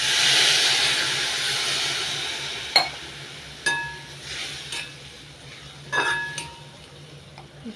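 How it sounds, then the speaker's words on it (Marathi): Water is added to a hot pan of masala for a dried prawn curry: a loud sizzling hiss fades over a couple of seconds, followed by a few sharp clinks of a utensil against the pan. "थोडंसं शिजण्यासाठी आपण पाणी टाकणार"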